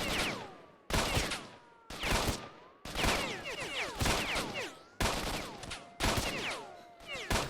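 Gunfire in the video game S.T.A.L.K.E.R.: Shadows of Chernobyl: about eight loud, sharp shots at roughly one-second intervals, each echoing briefly before the next, with no talk.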